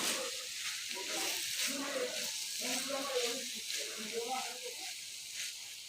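River prawns frying with chopped banana flower in a pan, a steady close sizzle and hiss running throughout with scraping stirs, while a person talks over it.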